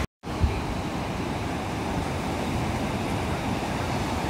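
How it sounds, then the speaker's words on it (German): Waves break on a beach as a continuous close wash of surf, mixed with wind rumble across the microphone, after a brief silent gap at the start. "weil hier kommen richtige Wellen an."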